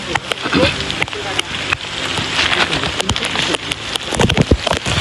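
Heavy first monsoon rain pouring down outdoors, a loud dense patter and splashing close by, with someone talking over it.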